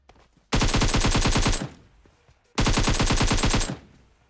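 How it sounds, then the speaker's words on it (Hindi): Two long bursts of rapid automatic gunfire from the video game Battlegrounds Mobile, each about a second, close and loud with a short pause between and quiet before and after. "यहाँ पे कोई बंदे फायरिंग करते हैं"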